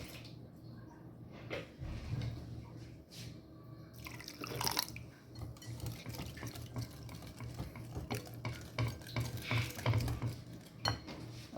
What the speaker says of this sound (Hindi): इसमें थोड़ा सा मैं पानी ऐड करूँगा।